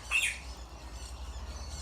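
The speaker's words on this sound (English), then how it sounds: "Don't mind my bird, so just like being annoying." A pet bird lets out a loud, sharp squawk near the start, then the room goes quiet apart from a steady low hum.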